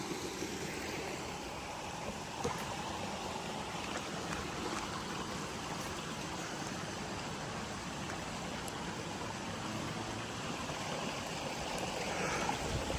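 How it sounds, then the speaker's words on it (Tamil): Water rushes steadily along a forest stream, a constant close wash of broad noise that barely changes across the whole stretch. "தண்ணி போகிற சத்தத்தை பாருங்க."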